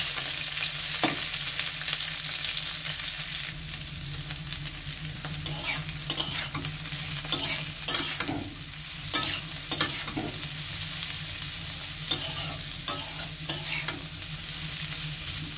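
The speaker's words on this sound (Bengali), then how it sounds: "এখন করলাগুলি একটু ফ্রাই করে নেব।" Bitter gourd (karela) fries in hot oil in a pan, a constant loud sizzle broken by repeated scraping stirs and clatters of the spoon against the pan, with no voices.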